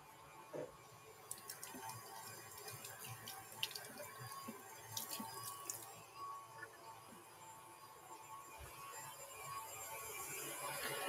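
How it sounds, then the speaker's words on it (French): Hands rinsed under a running tap in a pastry kitchen during brioche making, a soft steady stream of water spattering into a sink, fairly quiet, with a few light drips and clinks near the start. "Je vais juste me rincer les mains."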